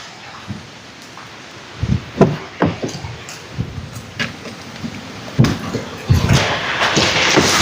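Heavy rain falls steadily in a broadband wash, broken by irregular louder thumps and splashes that build toward a dense, noisier close.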